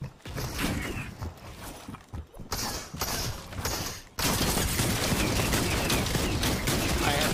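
Gunfire in the video game Fortnite rattles in rapid bursts, broken by brief gaps, then settles into a dense, continuous barrage for the last few seconds, loud and close.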